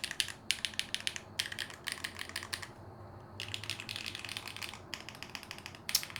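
Fast, crisp keystrokes on a Typeface Monospace mechanical keyboard with an aluminum case, typed in close-up bursts with brief pauses and no speech.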